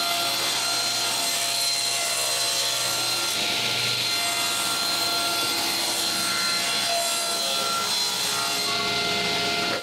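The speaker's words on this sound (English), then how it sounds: "Now that I'm happy, I cut one side of all my glue-ups." A saw cuts through Baltic birch plywood glue-ups in a woodworking shop, a loud, continuous high whine with a steady cutting rasp that stops abruptly at the end.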